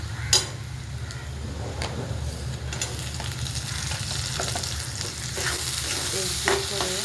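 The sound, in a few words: tomatoes frying and stirred in oil in a pan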